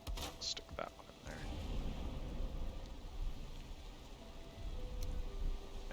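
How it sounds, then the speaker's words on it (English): Rain falls steadily in Valheim, a continuous soft hiss of drops with a few faint clicks and tones from the game mixed in. "And of course, it's going to rain."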